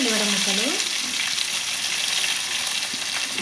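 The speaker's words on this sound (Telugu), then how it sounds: "నేను ఉల్లిపాయ ముక్కలు వేస్తున్నాను" Onion pieces sizzle and fry in hot oil in a pan while cooking egg curry with ridge gourd, a steady close crackle with a brief stir at the start, no talking.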